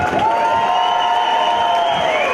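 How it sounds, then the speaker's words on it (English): A crowd at a live fight event cheers and claps for both fighters: a dense, continuous wash of noise with a sustained shrill tone running through it. "a round of applause for both fighters"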